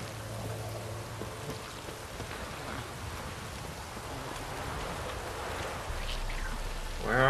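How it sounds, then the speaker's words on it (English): Rain falls steadily in The Witcher 3: Wild Hunt, a dense even patter that continues throughout, with a low rumble swelling near the end. "It's about to be some rain."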